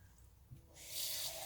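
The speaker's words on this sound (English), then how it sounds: "Go ahead and add some water to it." Water poured from a tap into a pan of homemade lasagna sauce, a soft rushing stream that starts partway through and runs steadily close by with no talk.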